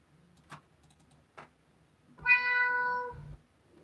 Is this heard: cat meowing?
yes